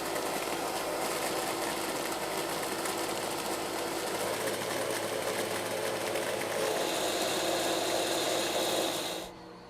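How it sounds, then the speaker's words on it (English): Milling machine cutter taking a climb-milled finishing pass on the floor and edge of a cylinder seam welder fixture part, with a shop vacuum running; a loud, steady whirring drone throughout that cuts off abruptly near the end. "Finishing pass floor and edge. 10 thousandths off the floor, 5 thousandths off the side. Climb milling on purpose for best finish."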